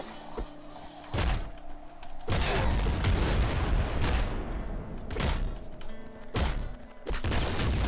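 Gunfire erupts in the video game Nuclear Throne as loud, dense bursts of shots and impacts that blur into a near-continuous roar, broken by a few brief sharper blasts.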